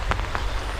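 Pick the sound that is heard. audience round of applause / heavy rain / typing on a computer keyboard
heavy rain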